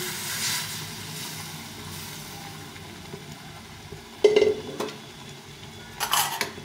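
Boiled peas go into a pan of cooked-down spiced masala for street-style ghugni. A soft low sizzle runs under a few sharp metal clanks of a spoon on the pan.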